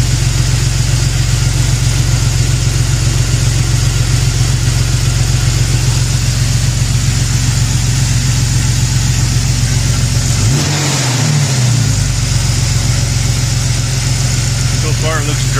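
A 2001 Jeep Cherokee engine on a test fire after new CCV and PCV seals and a fresh valve cover are fitted, idling loud and close with a steady drone, then one short rev blip before settling back to idle.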